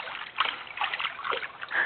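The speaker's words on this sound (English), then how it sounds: "Practicing swimming Are you swimming, Gummi?" Light splashing and sloshing of swimming pool water in short bursts, soft and close, with faint trickling between splashes.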